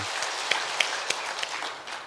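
A church congregation at a Sunday worship service applauds the choir, giving steady, dense applause from many hands with a few sharper claps that stand out. It sounds roomy and moderately close, with no talking over it.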